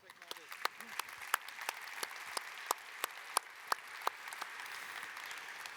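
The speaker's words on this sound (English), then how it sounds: "and applause." Audience applause for a panelist at a smart-energy conference panel, a steady wash of clapping with a few sharp individual claps standing out, moderately loud and sustained throughout.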